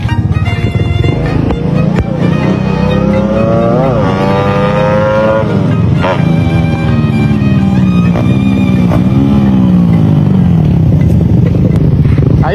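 Suzuki Raider FI superstock pit bike engine revving hard up close, loud rising and falling throttle blips with a raspy exhaust note over steady idle, repeated several times.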